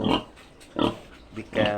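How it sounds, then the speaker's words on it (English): Pigs in a small piggery grunt in three or four short, close bursts with brief pauses between them. "This is my small piggery."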